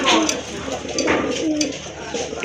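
A pair of large pigeons coo softly at close range in repeated throaty bursts, with a faint voice in the background.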